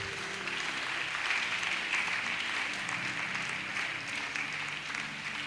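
A church congregation applauds to acclaim the Lord, the clapping steady, dense and moderately loud throughout, with no voices standing out.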